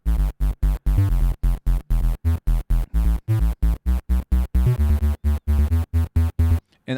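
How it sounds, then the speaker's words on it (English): Chiptune bass from a square wave synth with a low pass filter, playing a fast run of short, punchy, evenly chopped notes with brief gaps between them, loud and dry. "all this is just a square with a low pass filter"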